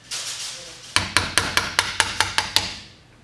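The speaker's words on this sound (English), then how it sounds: "Go ahead with the hammer." A hammer taps a sleeve out of a Maximator dry air spool during a rebuild, giving nine sharp, evenly spaced metallic knocks, close and loud, after a short stretch of hiss.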